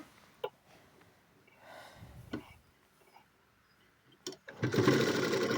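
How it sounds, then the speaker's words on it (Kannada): A sewing machine puts a double stitch on a uniform dress; soft handling clicks come first, then the machine runs loud and close for the final second. "ಇಲ್ಲೂ ಸಹ ನಾನು ಡಬಲ್ ಸ್ಟಿಚ್ ಹಾಕ್ತಾಯಿದ್ದೀನಿ."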